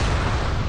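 A short, heavy explosion effect from Warcraft lore bursts out loud and close, filling the moment with a deep rumbling boom and no talk.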